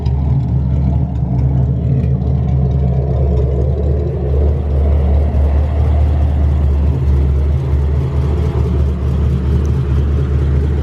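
A fifth-generation Chevrolet Camaro with aftermarket headers idles with a deep, steady exhaust rumble that holds even and loud throughout, with no speech.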